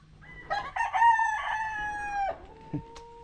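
A nearby rooster crows loudly with a drawn-out call, preceded by short clucks and followed by a brief squawk.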